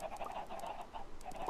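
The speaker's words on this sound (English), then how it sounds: "Gotta handle all these chickens." Chickens clucking in a blocky video game, a steady run of soft, close clucks overlapping one another with no talk.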